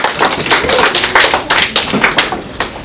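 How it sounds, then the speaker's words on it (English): Students in a 5th grade classroom clap for a classmate after her rocketry presentation, a small, loose group of hands patting out fairly sparse, irregular claps that run steadily for a few seconds without voices. "Give her a round of applause."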